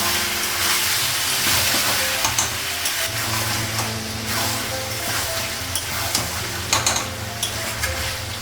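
Duck meat is sautéed in a hot pan, making a loud, continuous sizzle and hiss, with stirring scrapes and clatters that grow busier toward the end.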